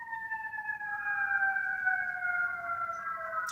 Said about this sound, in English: Sounds like an ambulance and the police.